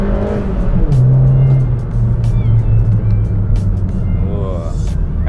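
A Honda Civic FD1 Type-R with an 1800 engine accelerates during a road test drive, its engine note rising and holding loud and close from inside the cabin, with talk over parts of it and a brief meow-like squeak.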